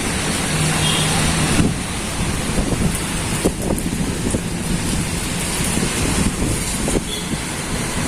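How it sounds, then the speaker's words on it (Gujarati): Heavy rain pours down without a break in Rajkot, a loud roaring wash, with gusts of wind and occasional sharp spatters and knocks rising above it. "કેટલો પવન ને કેટલો વરસાદ ચાલુ છે"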